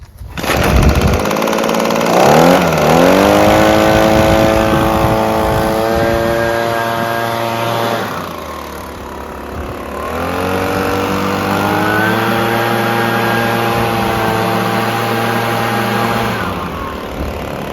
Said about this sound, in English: This is a very common leaf blower, probably the most sold, most popular one.